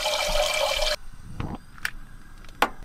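Tap water gushes loudly into a pot for pasta for about a second, then stops, followed by a few faint drips and light kitchen clatter.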